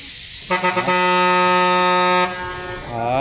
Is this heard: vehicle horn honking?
yes